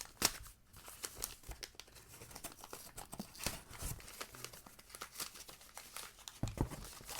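Paper crinkles and tears steadily while a vintage men's grooming mystery box is unwrapped, with soft rustles and crisp snaps repeating close up and no talk.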